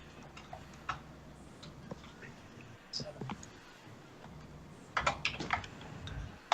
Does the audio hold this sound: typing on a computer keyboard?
yes